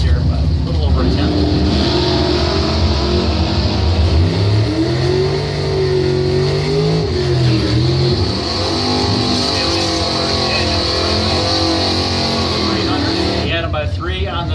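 An '85 Trans Am drag car from South Portland, with Daniels Racing Engines power, roars loudly down the strip, its engine note rising and shifting in pitch throughout, under an announcer's continuous commentary.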